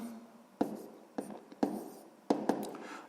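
A pen writes on paper at close range, making a few short scratchy strokes separated by brief pauses in a quiet room.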